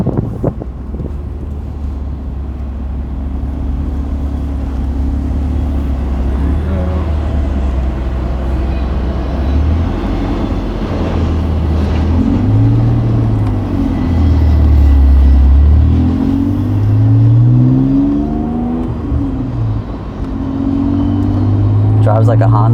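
Honda NSX from the 1990s on the road, a low engine drone rising and falling through gear changes beneath wind buffeting and cabin noise while people talk throughout.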